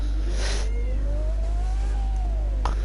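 A pet cat in a bedroom gives a long rising-then-falling meow over a constant low hum, with a couple of brief louder noises around it.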